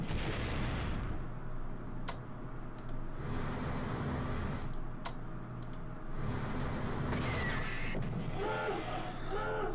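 Battleships fire in the strategy game Strategic Command, a few sharp booming shots standing out over a steady low rumble of ambient game sound, with clicks and faint tones scattered between.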